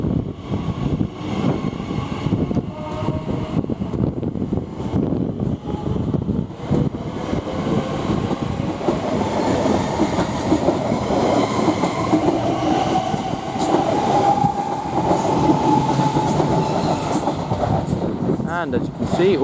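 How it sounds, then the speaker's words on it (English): A British Rail Class 345 electric train departs West Ealing station on the Heathrow Terminal 4 service, giving a steady rumble and rising motor tone with faint rail clatter that runs continuously, fairly close, with a brief voice over it. "now departing 345-067 with the service to Heathrow Terminal 4"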